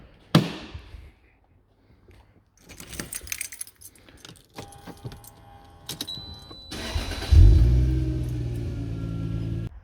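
Keys jangle and handling clunks sound close up, then the engine of an old K10 car cranks and fires, settling into a loud, steady running rumble as it gets ready to be moved.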